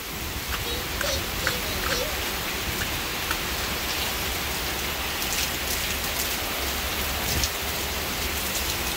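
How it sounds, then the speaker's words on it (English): Torrential heavy rain pours down in a steady, loud, unbroken hiss of dense drops drumming on surfaces, filling the whole scene with no gaps. "It's raining super hard."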